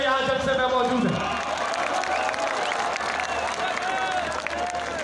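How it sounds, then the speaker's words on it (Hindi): Crowd at a PTI political rally (jalsa) in Attock clapping and cheering, a dense sustained roar of applause mixed with voices, loud and continuous throughout. "हाथ उठाकर तालियों की गूंज में दाद दीजिए इन तमाम खवातीन को"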